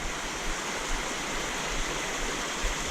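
A mountain stream flows over rocks into a pool, giving a steady, soft broadband rush of running water with no voices.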